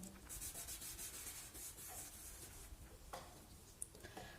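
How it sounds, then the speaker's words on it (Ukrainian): A napkin pressing and smoothing a glued paper shape onto a sheet during a children's paper appliqué craft, soft close rubbing and brushing strokes repeated in short bursts, quiet and alone. "притискаємо і розгладжуємо серветочкою"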